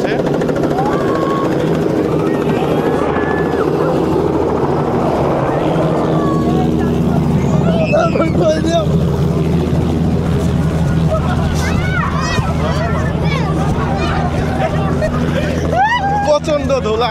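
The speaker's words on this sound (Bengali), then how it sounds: "এখন দেখেন এখানে ল্যান্ড করবে" A homemade light aircraft comes in to land on a dusty field. Its engine drones loudly and steadily throughout, with the excited chatter of a nearby crowd mixed in.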